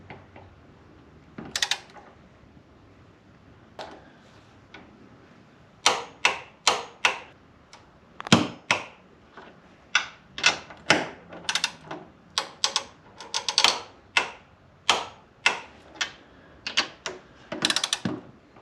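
A torque wrench tightens coilover bolts on a third-generation Chevrolet Equinox to 18 foot-pounds, giving sharp ratcheting clicks in irregular bursts, close and clear against a quiet room.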